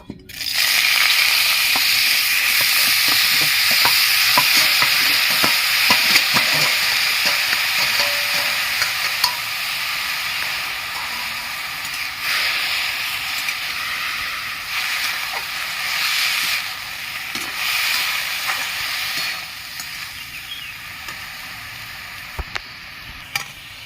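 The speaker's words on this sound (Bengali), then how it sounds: "কড়াই তেল গরম হয়ে গেছে মোচাটা আমি একটু সাদলে নেবো" Banana flower sautés in hot oil in a kadai, hissing and sizzling steadily throughout with scraping stirring noises and occasional clinks, close up, with no talking.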